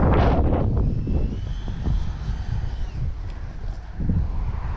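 FMS Futura V3 RC jet on a windy maiden flight: a steady low roar of the model overhead, heavily buffeted by rumbling wind noise on the microphone throughout, with no speech.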